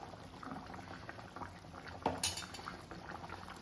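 Catla fish curry bubbling in a pot, a soft steady simmer with a faint metallic clink of utensils partway through, quiet and close with no talking.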